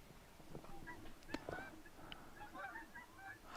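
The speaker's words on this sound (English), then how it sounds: "We hear Canada geese." Canada geese honk several times in the distance on a December night outdoors, the faint calls drifting over quiet background noise.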